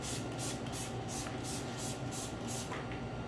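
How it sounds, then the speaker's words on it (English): Repeated quick hissing bursts from a spray bottle spraying water onto a car's waxed paintwork, about eight squirts in a steady rhythm, close and fairly quiet. "when you spray it with water"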